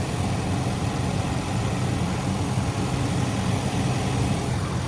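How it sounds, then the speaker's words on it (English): A 2016 Range Rover Sport Supercharged Dynamic engine runs at a smooth, even idle, a constant moderate hum with no irregular knocks or changes, heard without any voices. "As you guys can tell, nice and smooth running engine, no odd noises or vibrations."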